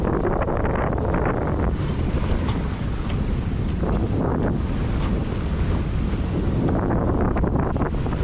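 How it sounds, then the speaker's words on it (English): Strong wind roars continuously across the microphone aboard a boat sailing fast behind a big ship, with waves and water rushing underneath throughout. "It's super really nice wind"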